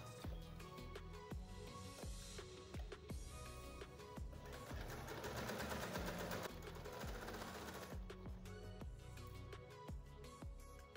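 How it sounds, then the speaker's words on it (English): A sewing machine stitches a denim seam at half an inch, a close, even mechanical whirr with a steady needle rhythm running the whole time, briefly busier in the middle. "I'll go ahead to sew from the inside by half an inch."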